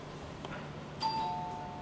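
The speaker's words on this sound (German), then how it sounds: "Die Zimmer haben eine Klingel" A hotel room doorbell at a beach resort in Hurghada gives a short electronic chime. It is faint and sits over a quiet room hum.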